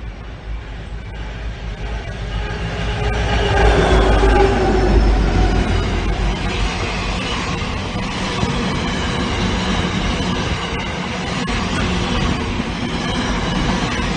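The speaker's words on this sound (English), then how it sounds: "train to arrive on platform 1 goes to Penrith only." A train pulls into platform 1 at Emu Plains railway station in Sydney with a loud, rumbling roar that swells and then settles, carrying faint wheel squeals and rattling carriages.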